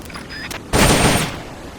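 Gunfire at a jungle shooting range in Metal Gear Solid: Peace Walker, a loud burst of rapid shots lasting about half a second after a couple of faint clicks.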